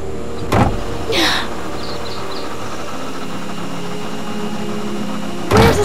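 A Jurassic Park tour car from a video game runs with a steady electric hum and whine, marked by a couple of mechanical clunks and whirs near the start and another at the end, no talk.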